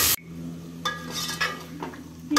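Green chilies and tomatoes frying in a pan make a light sizzle with a few sharp clinks and scrapes of a utensil against metal, close and fairly brief, no talking.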